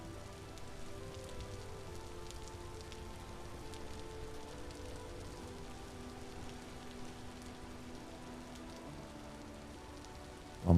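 Steady rain in the Vintage Story video game patters and hisses continuously at night, soft and even throughout, with no speech.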